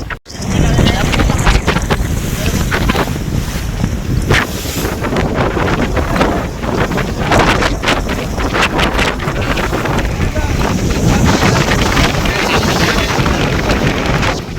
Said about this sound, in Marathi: जबरदस्त वारा आहे